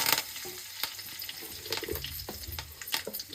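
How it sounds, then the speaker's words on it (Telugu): Mustard and cumin seeds splutter in hot oil as curry leaves go in. Close, sharp pops and crackles burst irregularly over a soft sizzle with some stirring, and nobody speaks. "ఆవాలు జీలకర్ర చట్పట్ అనేటప్పుడు కరివేపాకు వేస్తుంది"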